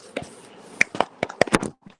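A small group of children clapping their hands in a class: a handful of uneven, sharp claps close by, scattered over a couple of seconds and never settling into a steady rhythm.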